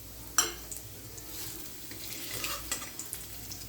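Paneer masala with gravy stirred and sautéed in a pan, giving a low steady sizzle with occasional scraping stirs and clinks, fairly quiet and close, with no voice over it.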